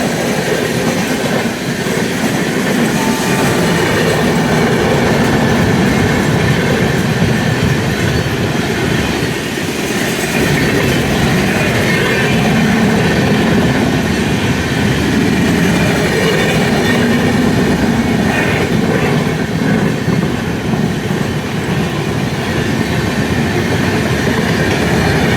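Another train overtakes at high speed on the adjacent track, a loud continuous roar of wheels with clickety-clack and some squeal, heard close from a moving passenger train on an Indian railway journey to Tirupati.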